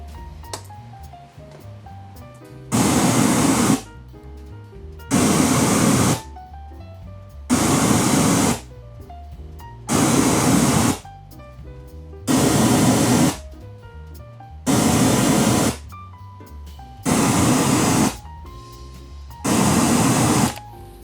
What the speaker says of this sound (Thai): สังเกตว่าที่ห้องของเราครับ จะมีนอยซี่ค่อนข้างสูง ไม่ใช่อะไรอย่างอื่นเลยครับ ก็คือแอร์เราเนี่ยแหละครับ